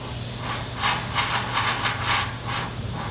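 An airbrush sprays blue paint for a realistic fire design, giving a soft steady hiss that swells in several short, closely spaced bursts over a constant background hum.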